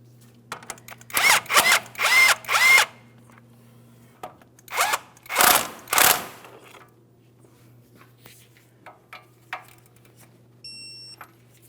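A power tool snugs the outer tie rod end mounting nut on a 2007-2014 GMC Sierra 2500 HD in bursts: three close, loud whirring runs, then two more after a pause, and several faint short clicks, with a steady low hum underneath.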